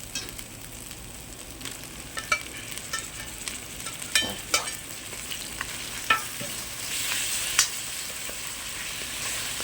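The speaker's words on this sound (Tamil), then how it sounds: "தக்காளி போட்டாச்சு போட்டு நல்லா வணக்கிக்கலாம்" Tomato sautéing in an iron kadai for chicken sukka, a steady close sizzle broken by sharp scraping stirs that come every second or so, with a brief louder hiss near the end and no voices.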